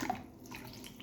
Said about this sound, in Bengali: আবারও একটু জল দিলাম।